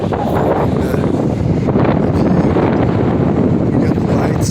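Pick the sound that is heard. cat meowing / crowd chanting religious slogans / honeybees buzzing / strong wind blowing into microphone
strong wind blowing into microphone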